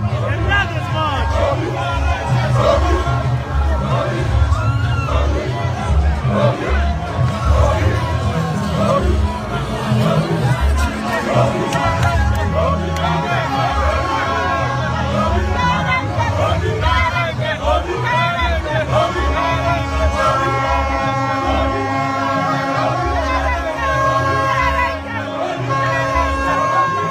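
A huge political rally crowd fills Michael Opera Square in Enugu with loud, continuous chanting, whooping and babble, voices shouting over one another, with music-like tonal passages rising in the later part.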